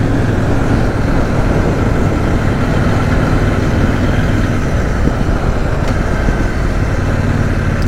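A CFMOTO 800 NK motorcycle engine runs steadily while riding, a constant, loud, even drone with wind rush layered over it and no voices.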